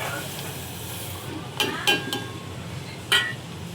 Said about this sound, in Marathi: ऑइल गरम झाले, आता हे सर्व आपण टाकून घेऊया यामध्ये. रोजमेरी लिव्स, त्यानंतर कलोंजी आणि मेथी